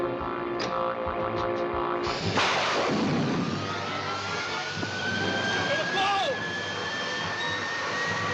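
A propeller airplane flies overhead in an old Batman and Robin serial, a steady droning engine roar that swells after a couple of seconds and holds loud throughout, with dramatic sound effects layered in.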